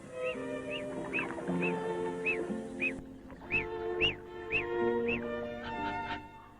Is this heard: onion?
no